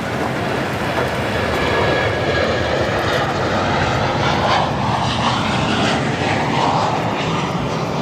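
An Etihad Airways jet departs O'Hare, its engines giving a loud, continuous broadband roar that holds steady for eight seconds and shifts slightly in tone as the aircraft moves.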